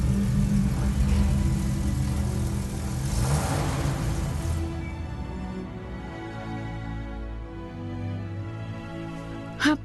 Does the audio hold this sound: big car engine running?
yes